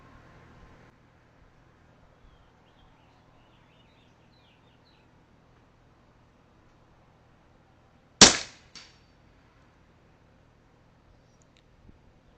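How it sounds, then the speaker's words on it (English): A single sharp rifle shot with subsonic rounds is fired down range at a 100-yard target during a night hog hunt. The loud crack comes with a brief echo, breaking long near-silence. "I'm gonna take a couple rounds down range right here."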